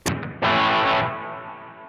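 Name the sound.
guitar through Donner Yellow Fall 2 pedal, hall reverb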